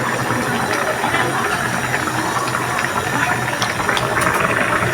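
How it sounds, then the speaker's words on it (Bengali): Tilapia fish dropped into a pan of curry that is already frying, a loud, constant sizzle and hiss with rattling crackles, close up and unbroken, with no talking. "কষিয়ে নেওয়ার পর এখন এখানে মাছগুলা ছেড়ে দিচ্ছি"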